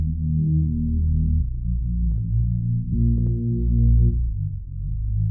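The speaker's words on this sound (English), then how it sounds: "It's the Prid sidechain bass." Deep sidechained sub bass preset from a beat, low sustained tones that pump and shift pitch in a throbbing rhythm, loud and alone without any talking.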